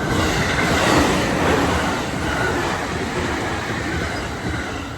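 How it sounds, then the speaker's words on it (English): An eastbound JR main line commuter train passes close by, a loud continuous roar of wheels and cars on the track, rushing steadily and easing slightly at the end. "Here comes a eastbound commuter train on the JR main trunk line going by."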